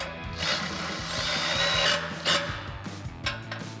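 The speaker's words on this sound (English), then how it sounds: "we're going to use our 4mm Allen socket on our ratchet and a 10mm wrench to tighten these down" A ratchet fitted with a 4mm Allen socket tightens bolts on a full-width plate-style front bumper for a 2021-2026 Ford Bronco, giving close, rapid bursts of metallic clicking and grinding with short pauses between them.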